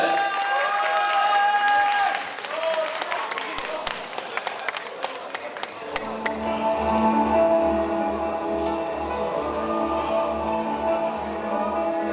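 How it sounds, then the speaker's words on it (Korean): An audience applauds a student rap and song performance at a high school festival, with clapping filling the first half before music with a heavy low beat starts up. "박수 부탁드리겠습니다"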